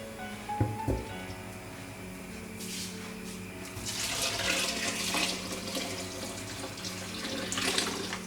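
Kitchen tap running into a sink while Ofada rice is washed, a steady stream of water that grows louder and more splashy partway through, with a couple of knocks near the start.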